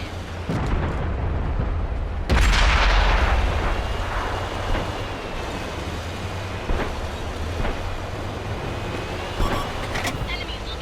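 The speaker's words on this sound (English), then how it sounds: "Ready to fire on target." A tank cannon fires in World of Tanks, a sudden heavy boom with a long rumbling decay, followed by engine drone and a few lighter thumps in the game mix.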